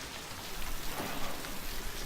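Steady rain in the video game Left 4 Dead 2, a dense even hiss of falling drops on surfaces, continuous and moderately loud with no voices.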